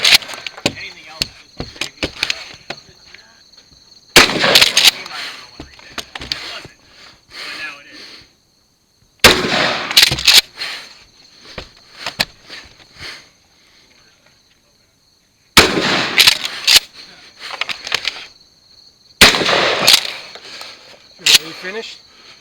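Bursts of rapid gunfire at a two-gun shooting competition stage, several loud strings of shots separated by pauses, with a person talking between them.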